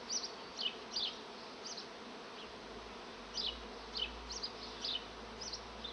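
Honeybees on a hive frame of comb buzz softly in brief, repeated bursts over a low, constant hum, close by and fairly faint.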